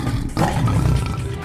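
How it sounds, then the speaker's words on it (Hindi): A cartoon sound effect of a tiger roaring, a loud, close, rumbling roar swelling after a brief lead-in and holding for over a second. "गोलू जानवर की दहाड़ को कोसों दूर से सुनकर महसूस कर सकता था।"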